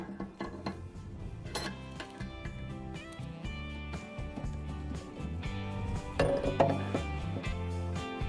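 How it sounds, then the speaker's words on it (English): A crankshaft is fitted into a Mercedes compressor, giving close, quiet metallic clicks, taps and clunks in an irregular rhythm with no talking. "Next I'm installing the crankshaft."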